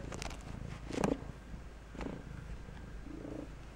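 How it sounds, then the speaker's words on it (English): A house cat purrs softly and steadily up close, a low faint rumble with a few slightly louder swells. "Can you hear her purring?"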